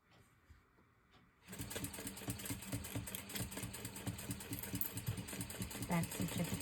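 Sewing machine back stitching a crossbody bag seam, starting after a quiet moment with faint handling noise, then a fast, steady mechanical whir and rattle, close and moderately loud.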